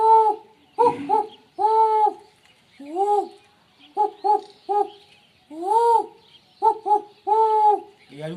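A man mimics the call of the arua, a bird that lives in trees and on jamun trees. He gives a series of short, tuneful hooting notes, some alone and some in quick pairs, with pauses between them.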